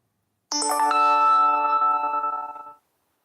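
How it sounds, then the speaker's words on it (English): A single bright notification ding rings out, a chime with ringing harmonics that sustains for about two seconds before cutting off, alone in silence. "I don't know what kind of notification that was."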